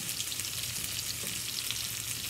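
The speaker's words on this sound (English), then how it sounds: "you hear it sizzling?" Refried beans being mashed sizzle steadily in a frying pan, a close continuous crackling hiss with no talking.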